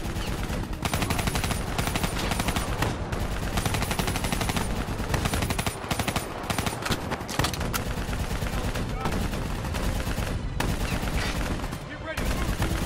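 Automatic weapons fire continuously in Call of Duty Black Ops 3 during a fight against an APC. Dense, loud bursts overlap with almost no pause, and a few brief gaps break the barrage.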